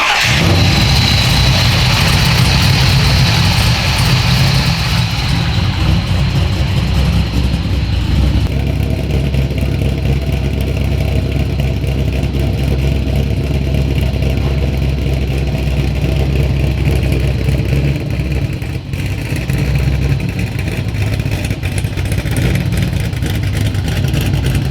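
An LS-swapped Nissan Skyline R32 runs after its first start, a loud, close engine holding a rough, steady idle with some revving early on and deep low rumble throughout.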